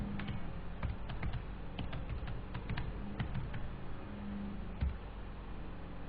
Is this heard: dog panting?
no